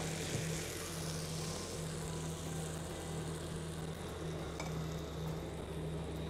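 Onion, garlic and grated tomato sizzling in a frying pan, a steady close hiss of frying with faint stirring and no talking throughout.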